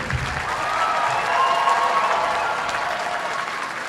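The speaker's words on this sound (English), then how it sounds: "your applause going for the 5th grade band" Audience applause for a 5th grade band at an all-city school band concert, a steady wash of many hands clapping that swells slightly midway and holds, with faint crowd murmur.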